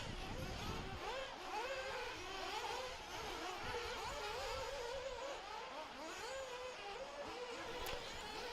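Nitro 1/8-scale RC buggies race around an off-road track, their small engines whining and rising and falling in overlapping revs. The engines sound faint and distant, beneath an announcer's commentary.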